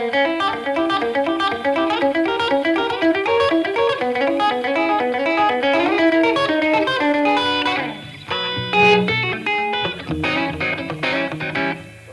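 Electric guitar plays a continuous picked pattern in E in rockabilly style, steady and loud throughout with a short drop near eight seconds before the picking resumes, with no talking.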